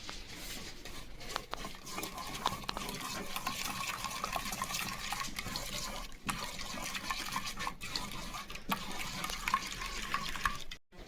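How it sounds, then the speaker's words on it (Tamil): Yogurt being mixed into a chicken marinade for mint tandoori chicken gives a soft, continuous wet squelching and stirring texture, faint and close, with occasional brief gaps. "கடைசியாக தயிர் ஊற்றிக்கலாம். நல்லா மிக்ஸ் பண்ணிக்கலாம்."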